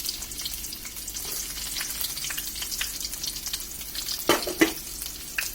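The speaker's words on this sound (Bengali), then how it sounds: "তেলটা গরম হয়ে আসলে আমরা এর মধ্যে পেঁয়াজ আর রসুন কুচিটা দিয়ে দিব" Chopped onion and garlic frying in hot oil for a dried mola fish dish, a steady close hiss with crackling pops throughout and a few sharper spatters near the end.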